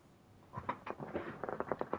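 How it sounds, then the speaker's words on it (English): A pet rabbit gnaws on something plastic, producing a rapid, uneven series of close, crisp clicks and scrapes that start after a quiet moment and continue in short bursts. "I hear her chewing something plastic"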